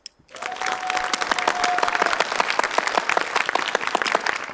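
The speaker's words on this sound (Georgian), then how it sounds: "ნამდვილად მეკუთვნოდა ტაში" An audience breaks into applause after a poem recital, a sudden burst of many close hands clapping that keeps going steadily and fairly loudly for several seconds.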